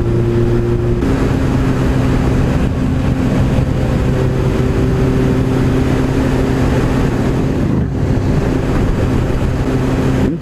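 A Suzuki GSR 750 motorcycle engine pulling hard in fourth gear from around 80–90, a loud continuous drone with rising tones that rolls off briefly before building again, heavy wind rush throughout.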